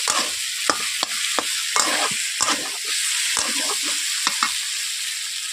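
Small potatoes with salt fry in a wok under a low sizzle, punctuated by repeated sharp scrapes and knocks of a spatula stirring them, close and distinct.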